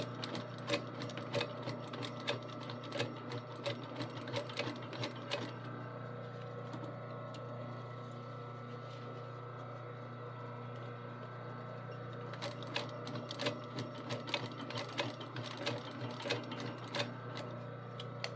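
A sewing machine stitches a square pattern with an X at each connection while sewing a bike together. Its quiet, steady mechanical hum carries rapid ticking stitches, pauses briefly in the middle, then starts again.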